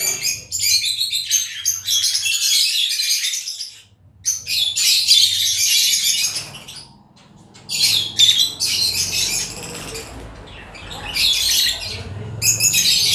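Caged African lovebirds chirp and squawk in dense, shrill bursts, several birds calling at once, with brief lulls between flurries and faint rustling underneath.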